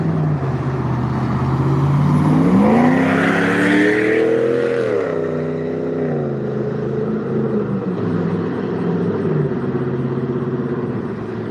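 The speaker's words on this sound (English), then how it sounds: "that truck there sounded pretty good" A Dodge truck drives past with a loud engine rumble that rises in pitch as it nears, peaks, then slowly fades away, with no talk.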